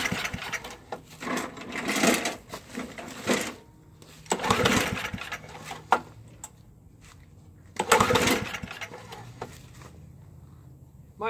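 A Toro 421 snowblower engine catches after a cold start and sputters in bursts of uneven, surging revving separated by quieter gaps, heard up close without talk.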